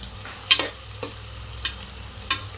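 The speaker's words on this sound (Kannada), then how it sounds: "ಹಾಕಿ ಹಸಿ ವಾಸನೆ ಹೋಗೋ ತನಕ ಒಂದ್ಸಲ ಫ್ರೈ ಮಾಡ್ಕೊಳ್ಳೋಣ." Green chillies fry with onions in hot oil, a steady sizzle broken by several sharp scraping stirs of a spatula against the pan, close and clear with no talk.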